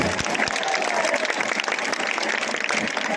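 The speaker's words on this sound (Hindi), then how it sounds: "एक बार जोरदार ताली बजाइए।" A large crowd at an election campaign rally in Rajnandgaon claps loudly and continuously, a dense unbroken roar of hands that holds at full strength throughout.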